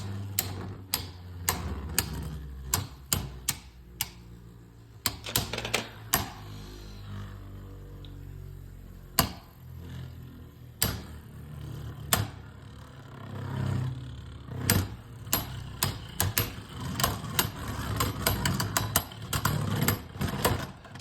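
Beyblade Burst spinning tops clatter and clack against each other in a plastic stadium after launch, with sharp irregular impacts over a steady whirring hum, some clusters of rapid hits.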